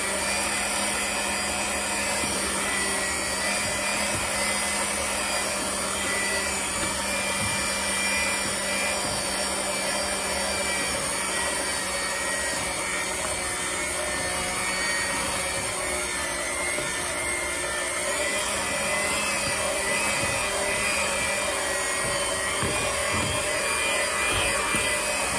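Electric mixer whipping alginate powder at a low setting: a steady, dense whirring drone that runs unbroken throughout, loud and close with no voices.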